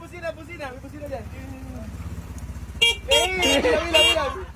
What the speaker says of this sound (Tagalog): Busina. May busina dyan.